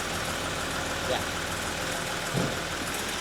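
A car engine idles steadily before being put in gear, a low continuous rumble with faint knocking texture and two brief louder bumps, with faint talking.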